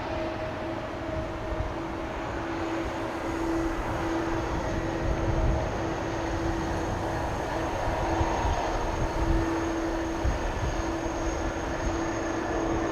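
An airliner takes off from a runway at Amsterdam Schiphol, a steady distant jet roar with sustained engine tones, unbroken and fairly loud throughout.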